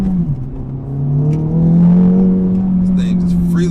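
An Acura Integra Type S engine revs strongly under acceleration, a loud, steady rising drone held close for several seconds over road noise.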